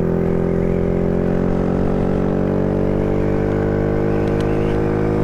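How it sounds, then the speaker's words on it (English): A small-wheeled gas-engine motorbike revs loudly and close, its engine note climbing steadily throughout. "Yeah, this gas engine shit sucks."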